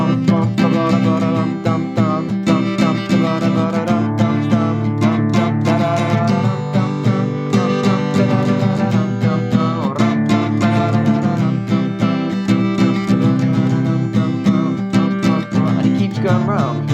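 An acoustic guitar strums the chords of a song in a steady, driving rhythm, loud and close with sharp percussive strokes and no voice.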